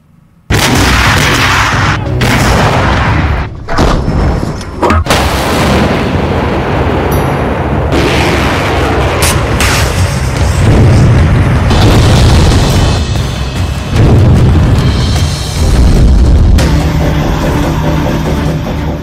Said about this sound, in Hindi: यूक्रेन पर मिसाइलों की बारिश शुरू हो गई है।